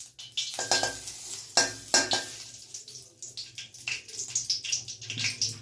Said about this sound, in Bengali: এবার বাটারটা মেল্ট হোক।